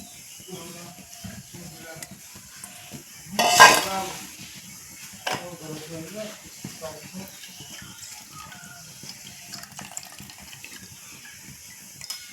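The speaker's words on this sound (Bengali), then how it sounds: "আমি অনবরত নাড়াচাড়া করে ঘন করে নিব" Milk with almond paste stirred in a pot for kulfi, with soft scraping and clinks of a utensil against the metal and one louder clatter, under quiet talk.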